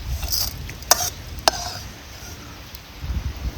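Urad dal roasting in oil in a pan while making curry leaf chutney, with soft crackling, a couple of sharp stirring clicks against the pan, and low background rustle throughout.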